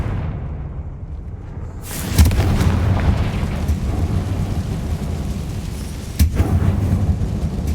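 Confringo spell explosion in Hogwarts Legacy, a sudden loud boom bursting out of near silence into a sustained rumbling roar, with a second blast hitting a few seconds later.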